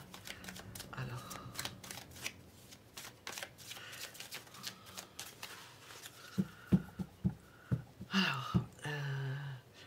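Oracle cards shuffled by hand close up: a run of soft riffling flutters and quick papery slaps in uneven bursts, growing sharper toward the end, with faint breathy voice sounds in places.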